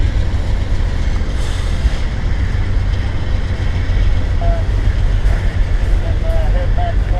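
Train 178 moving on a far track, its lead locomotive producing a steady, heavy low rumble with continuous rolling noise, a few faint higher squeals near the end.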